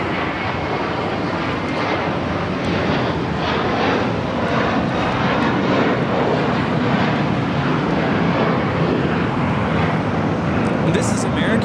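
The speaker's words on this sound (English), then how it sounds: "238 taking off to JFK on the A321" An American Airlines Airbus A321 jet bound for JFK takes off at Los Angeles International, its engines a loud, continuous roar with wind buffeting the microphone and speech underneath.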